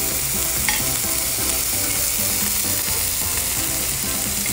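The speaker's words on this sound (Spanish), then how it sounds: "Vamos a saltear un poco de piña aquí." Pineapple sautéing in a hot pan for mahi mahi with pineapple, a steady loud sizzle with occasional stirring scrapes, close and continuous, no talk.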